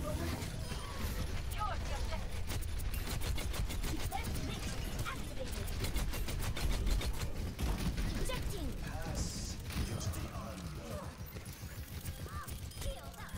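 D.Va's rapid gunfire in Overwatch rattles along as a fast, even stream of shots through most of the stretch, sitting under a steady voice of someone coaching the player.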